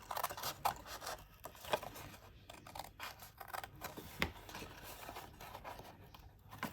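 Scissors cut through cardboard for a homemade gift box, with a series of close, crisp snips and blade scrapes at an uneven pace.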